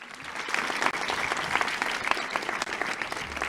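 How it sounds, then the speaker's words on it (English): An audience at a National Honor Society induction ceremony breaks into sustained applause, a thick, continuous roar of many hands clapping at steady loudness for the whole stretch. "big round of applause for Marissa O'Shea"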